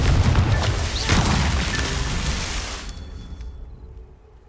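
A Confringo fire spell explodes in Hogwarts Legacy: one loud, booming blast that holds a heavy rumble, then fades away over a few seconds into quiet.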